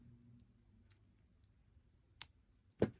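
Fine beading wire trimmed with cutters while making beaded plants, giving two sharp, quiet snips close up over a faint background hum.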